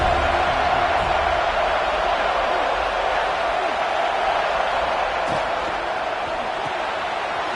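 A college football crowd at a Florida State versus Wisconsin game gives a steady, dense stadium roar throughout, loud and unbroken, with a commentator's voice faintly mixed in.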